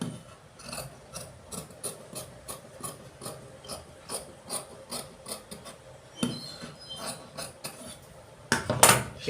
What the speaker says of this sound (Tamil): பின் கழுத்தை மட்டும் வெட்டிடுவோம்.